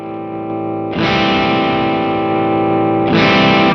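An electric guitar through a Matchless D-30 amp model on a Fractal FM9 sounds loud, crunchy and distorted, with a sustained chord that gets struck harder twice and rings with a little reverb.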